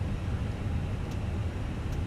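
Airbus A321 with sharklets, jet engines idling in a flight simulator, a steady low rumbling hum with a faint broadband hiss, quiet and unchanging.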